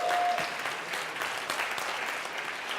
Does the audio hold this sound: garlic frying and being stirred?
no